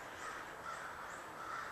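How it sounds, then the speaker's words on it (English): Crows caw in the woods, several distant, repeated calls over quiet background hiss. "Sounds like the crows are going crazy back there"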